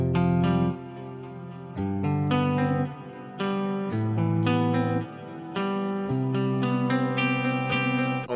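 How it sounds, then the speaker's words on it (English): A processed guitar loop opens a song, with distorted, chorused chords changing roughly every second in a steady repeating pattern, loud and up front with echoing tails and no voices. "I start the song by introducing this guitar loop I found."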